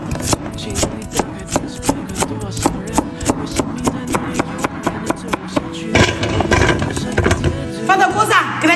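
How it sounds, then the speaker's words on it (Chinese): Knife chopping carrots on a cutting board for steamed buns, a fast steady run of sharp close taps, louder and busier toward the end, with faint talk in the background. "我们把胡萝卜得给它切碎"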